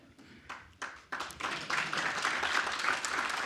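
An audience at an annual information session breaks into applause, starting with a few scattered claps and swelling into steady clapping, fairly quiet and heard from a distance.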